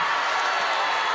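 Crowd at a college basketball game, a steady loud roar of many voices filling the arena without a break.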